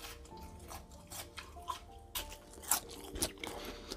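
Crunchy fried beer-house potatoes are bitten and chewed up close, a series of sharp crisp crunches and crackles spread irregularly over a few seconds against a quiet room.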